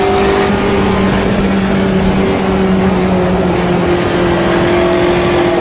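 Race cars in the sim racing game Automobilista 2 run side by side down the front straightaway, their engines a loud, steady, droning roar throughout with no voices.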